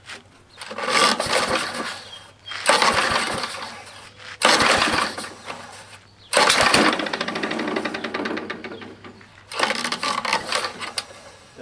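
Tecumseh HS50 small engine running roughly, with a suspected flywheel key fault, sounding in loud bursts separated by short drops, a rapid uneven clatter close by.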